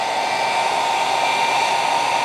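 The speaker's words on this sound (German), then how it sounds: "dann machen wir den Föhn mal an" A hair dryer runs steadily off an EcoFlow River 2 portable power station, a constant close airy whir with a motor hum, alone with no talk.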